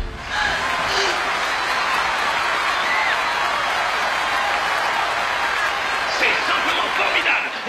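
Steady, dense applause from a crowd greeting a future star in the anime Great Teacher Onizuka. It runs unbroken throughout, fairly loud, with a voice speaking over it.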